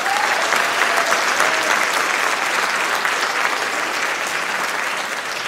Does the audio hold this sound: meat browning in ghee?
no